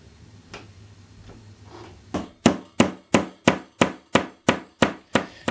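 After a few faint taps, a hammer drives a sharpened rod into a soft plastic stock with about a dozen sharp, evenly spaced strikes, close and loud, each a crisp knock on a steady beat, with no talking.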